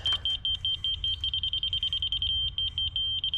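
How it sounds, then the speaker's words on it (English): A laser level receiver, used outdoors to mark a level contour line, beeps rapidly and repeatedly in a high-pitched, steady pulsing pattern, close and clear over faint background noise. "And place a flag where it beeps, and that is a, by laser, level plane."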